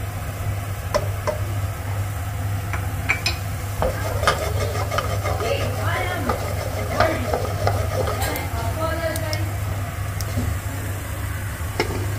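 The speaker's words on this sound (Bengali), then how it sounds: "এবার তেলটা গরম হয়ে গেছে, এবার এই গরম মশলাগুলো দেব।" Whole garam masala spices hit hot oil for chicken kosha, giving a soft steady sizzle with scattered crackles and pops over a low hum, no voices.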